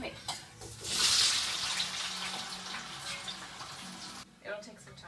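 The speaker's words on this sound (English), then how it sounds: "and pour on the tomatoes" Tomatoes poured into a hot pan of browning garlic give a burst of loud sizzling and hissing that settles into a steady simmer, with clattering of the pan near the end.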